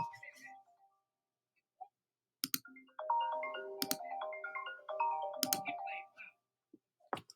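An electronic phone ringtone from an unknown caller, a melodic repeating tune in a couple of bursts with a few scattered clicks around it, fairly quiet and without speech.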